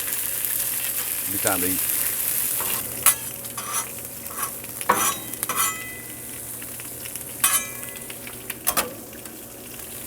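Food cooking down on a Blackstone griddle for burgers gives a steady close sizzle, broken by a few sharp scrapes and clinks of a spatula, while someone talks briefly over it.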